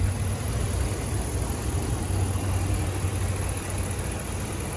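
A 2012 Ram 1500 SLT 4x4 pickup with a 5.7 liter Hemi V8 idles smoothly, a steady low rumble that holds even and unbroken from start to finish with no voices over it.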